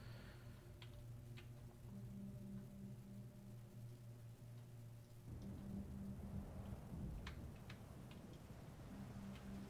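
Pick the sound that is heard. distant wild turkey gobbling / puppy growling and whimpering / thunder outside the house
thunder outside the house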